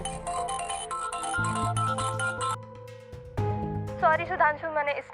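A mobile phone rings with a loud, repeating electronic melody in an indoor drama scene, then stops and a voice speaks.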